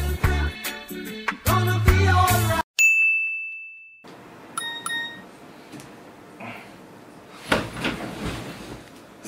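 A single clear, bright ding of a phone message notification rings out and decays, following a burst of music and preceding quieter household rustling and clatter.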